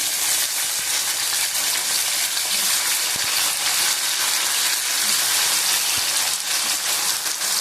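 Ghanti sizzles in hot oil in a pan for a tengra fish curry with potatoes, a loud, even frying hiss running throughout with a few faint knocks.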